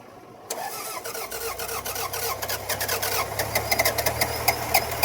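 Toyota RAV4 that had not been running cranks briefly and catches, its engine firing into a rough, uneven idle with rhythmic knocking pulses that build and stay loud and close, no voices.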